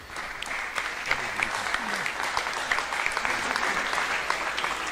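Steady audience applause for quiz teams at a school quiz competition, a continuous dense clapping texture lasting throughout with faint voices underneath.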